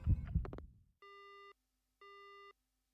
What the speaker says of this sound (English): Suddenly the phone goes dead.